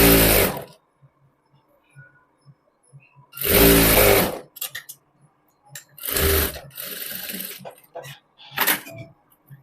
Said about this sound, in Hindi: मैं एक फोल्ड करके सिलाई लगा चुकी हूँ